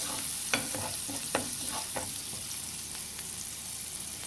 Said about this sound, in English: So I'm just going to toss this a little,